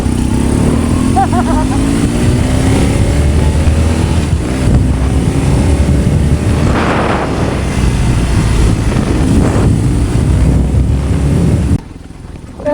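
A BMW HP2 motorcycle engine drones steadily up close while riding, rising and falling slightly with wind rushing over the mic, then cuts off abruptly at the end.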